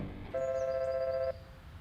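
A phone rings once in a steady electronic tone for about a second, then cuts off with no pickup, loud and close over a low background hum.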